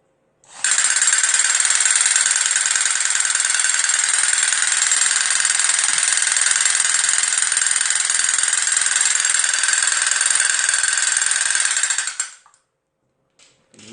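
An electric valve grinding machine for cars and motorcycles, with adjustable speed, runs for about twelve seconds with a loud, steady high-pitched whine and a mechanical buzz, starting and stopping abruptly, alone and close up.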